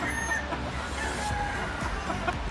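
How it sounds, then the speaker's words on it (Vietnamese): A rooster clucks on a fighting-chicken farm in Tây Ninh, Vietnam, with steady, rough farmyard noise throughout and no talk. "Gà này là gà vú Tết nha anh em."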